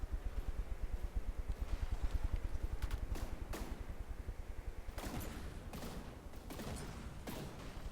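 Distant, rapid, continuous gunfire rattles steadily, punctuated by several heavier shelling thuds in a video game battle, with no voices.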